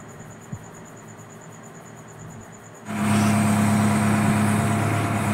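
A JCB 3DX backhoe loader reversing into position at a septic tank dig, quiet at first and then its diesel engine surges into a loud, steady rumble at close range.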